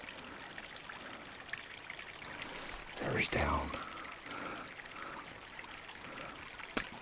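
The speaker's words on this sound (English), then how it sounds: "That's where the creek heads down through. Beautiful little creek." A small creek flows through a canyon, its faint, steady trickle and splash running under a voice, with a brief louder gush partway through.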